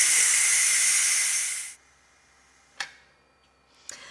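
A pressure cooker vents its steam in a loud, steady hiss that cuts off after nearly two seconds, followed by a couple of sharp clicks in the quiet.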